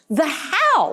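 A single sharp sneeze rings out from an audience member during a keynote talk on diversity, loud and close, with the speaker's voice around it.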